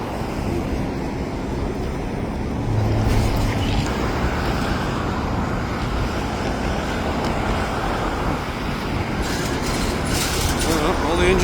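A freight train hauling rack cars rolls past nearby in a steady, continuous rumble of wheels and cars that holds for the whole stretch, with faint voices under it.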